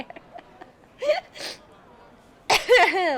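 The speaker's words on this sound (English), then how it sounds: "Wow, that was a weird sneeze." Sneeze from a character in The Lion's Song video game, a short breathy burst mixed with gasping, whimpering vocal sounds and brief speech in a quiet scene.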